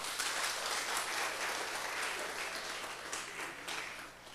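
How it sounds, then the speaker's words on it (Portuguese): Sustained audience applause fills the room at a gathering, a dense steady wash of many hands clapping that carries on without a break and fades slightly toward the end. "Aplauso mais, irmão"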